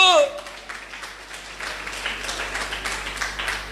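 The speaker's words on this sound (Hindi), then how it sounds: "जल्दीबाजी में ताली बजा दिया।" A church congregation breaks into steady applause during a Hindi sermon, a dense wash of clapping that continues for several seconds after a brief voice at the start.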